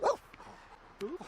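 A dog in The Sims 4 gives two short, faint barks, one at the start and another about a second later, with a quiet game backdrop between them.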